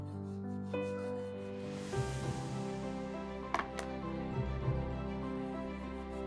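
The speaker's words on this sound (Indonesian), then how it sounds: "Nah setelah begini saatnya kita serut" Food is shredded into thin, long strips on a grater, a steady rasping scrape running continuously at close range with a few sharper knocks.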